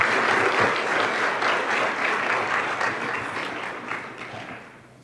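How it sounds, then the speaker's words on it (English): A school board meeting audience applauds the teacher of the month, steady dense clapping from a room full of people that holds for a few seconds and then gradually fades away. "please give her a round of applause"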